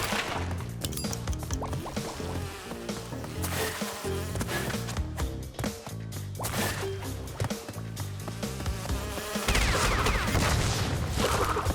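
Buzzing bees in the video game Crash Bandicoot N. Sane Trilogy, a thin insect drone running under busy game music and effects for the whole stretch, growing denser near the end.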